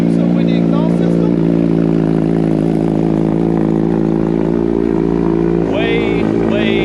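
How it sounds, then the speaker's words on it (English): A loud 2022 Suzuki Hayabusa engine with an aftermarket exhaust idles close by after a cold start, a deep, steady burble blipped by occasional short revs. "Cold start on a Busa with the exhaust system."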